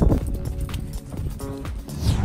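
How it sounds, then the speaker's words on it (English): Horse hooves clip-clopping in a steady trot, mixed with clattering and background noise, fairly close. "Let's see if I can trot one-handed"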